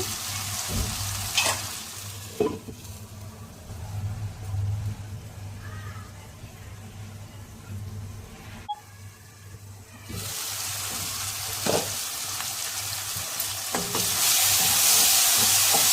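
Tomatoes simmering in a covered pan give a steady sizzling hiss, broken by a few soft knocks and clatters, with the sound briefly dipping midway.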